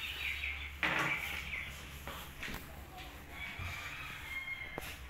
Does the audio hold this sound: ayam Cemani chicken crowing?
yes